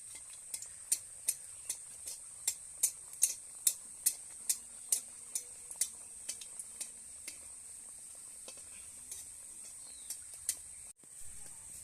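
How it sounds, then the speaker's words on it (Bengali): A flower-shaped pitha fries in lightly heated oil while a stick presses it down, giving a soft steady sizzle under a regular series of sharp ticking taps that thin out, then stop near the end. "হালকা তেলের গরমে আমি ভেজে নিব পিঠাটাকে।"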